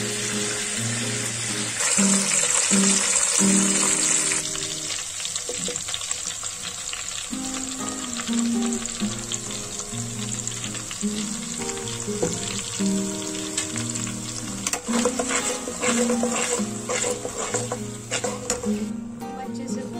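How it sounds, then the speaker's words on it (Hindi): Mushrooms frying in hot oil: a dense, steady sizzling crackle running throughout, close and fairly loud, with intermittent stirring scrapes and a watery hiss, plus some faint low background tones. "अब मैं इसमें मशरूम डालूंगी, इसको फ्राई करूंगी।"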